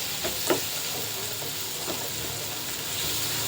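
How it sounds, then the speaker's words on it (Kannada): Coriander powder and chilli powder fry in oil in a pan for dhaba-style butter chicken masala, making a low, even sizzle with a few faint stirring taps near the start. "ಒಂದು ಟೇಬಲ್ ಸ್ಪೂನಷ್ಟು ಧನಿಯಾ ಪೌಡರ್, ಚಿಲ್ಲಿ ಪೌಡರ್, ಇಷ್ಟು ನಾವು ಚೆನ್ನಾಗಿ ಫ್ರೈ ಮಾಡ್ಕೊಳ್ಳೋಣ."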